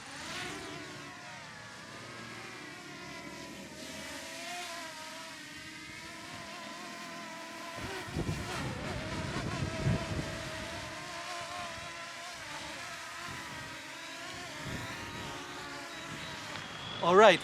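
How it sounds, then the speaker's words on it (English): A steady high-pitched buzzing whine of a DJI Mavic Mini drone hovering nearby on a windy day, with wind noise and some louder rustles toward the end. "My first time ever flying a drone."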